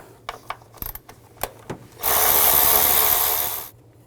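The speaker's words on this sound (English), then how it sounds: "Take this nut off right here, use a 10mm socket." A socket wrench on a 10mm nut and bolts of a 2000-06 GMC Yukon makes a few quick ratchet clicks and taps, then a loud, steady whirring burst of about two seconds.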